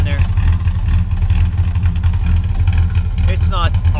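A 1962 Plymouth Valiant station wagon with a slant six engine and a mild cam idles steadily and loudly up close, a low rumbling drone throughout with a voice talking over it near the end.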